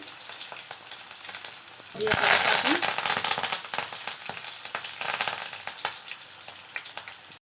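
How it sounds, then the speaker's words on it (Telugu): Onions and tempering seeds hit hot oil for an Andhra-style puri curry, bursting into a loud, close sizzle that stays bright and crackling after a quieter start, with popping seeds scattered through it. "హీట్ అవుతున్న ఆయిల్లో కొద్దిగా ఆనియన్స్ అని వేసుకోవాలి. తాలింపు గింజలన్నీ వేసేసుకోవాలి."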